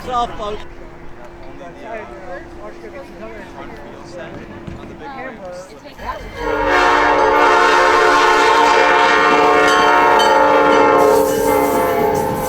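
Crowd noise and voices give way to a loud, sustained train horn blast as a train passes close by, rumbling underneath.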